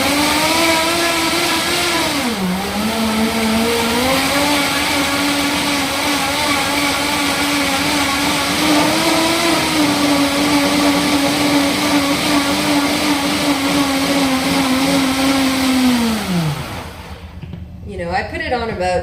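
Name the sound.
Vitamix blender blitzing Thai curry paste with lime leaf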